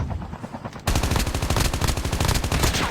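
Rapid, dense bursts of Call of Duty Mobile Battle Royale gunfire crackle continuously, with a sudden jump in intensity early on and a sustained automatic rattle after that.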